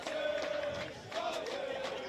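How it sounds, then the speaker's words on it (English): Crowd at a high school baseball game between Grosse Pointe South and University Liggett chants a soccer-style cheer, a steady sustained sung tone from many voices carrying across the full two seconds. "The old soccer cheer, whatever they call that."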